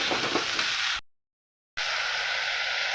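Fig and papaya curry with light spices frying in a pan, a steady loud sizzle broken by a short gap of silence partway through, close up, with no talking.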